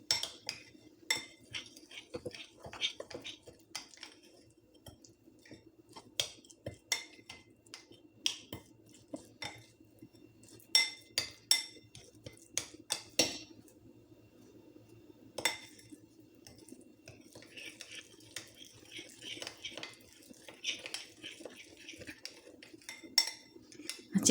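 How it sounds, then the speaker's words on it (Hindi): Chicken cubes are tossed with spices in a bowl for Mediterranean kebabs. Faint, scattered clinks and taps of a utensil against the bowl recur irregularly over a quiet background, with no voices. "इसको मिक्स करके फिर ये चिकन क्यूब्स डाल देंगे इसमें,"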